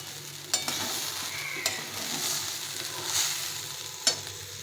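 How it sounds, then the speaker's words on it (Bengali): Spices and tomato frying in a pan for khichuri with onion and garlic, a steady sizzle broken by a few sharp scrapes and clacks of stirring, close and fairly loud. "এখন আমি টমেটো দিয়ে দিলাম, দিয়ে আবার একটু ভালো করে কষিয়ে নেব।"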